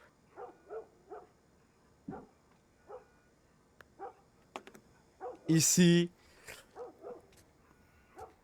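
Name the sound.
dog barking in video game The Last of Us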